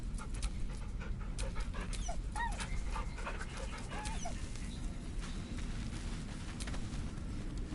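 A dog in Baldur's Gate 3 panting steadily and close up, with rapid rhythmic breaths and a few soft whimpers over a continuous low rumble.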